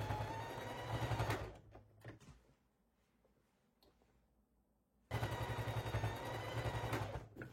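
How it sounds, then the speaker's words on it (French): Sewing machine stitching along the hem and straps of a summer top: a loud, steady mechanical whirr runs for over a second, stops for a few seconds of quiet, then starts again at the same strong pace. "faire les points de couture dans la première couture que vous avez fait pour faire l'ourlet"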